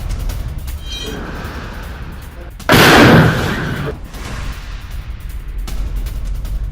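A loud burst of gunfire and explosive impact from combat footage of a Hamas attack on an IDF base in a building near Al-Shifa in Gaza: one heavy blast-like crack, then rumbling decay amid background noise.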